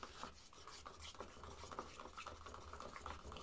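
Paint being stirred with pouring medium in a cup, a close, continuous scraping and rubbing with rhythmic strokes, quiet and unaccompanied by talk.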